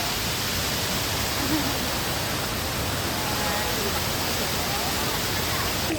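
Mini waterfall at Tinuy-an Falls in Bislig, Surigao del Sur, giving a steady, dense broadband rush of falling water that stays loud and unchanging from start to finish.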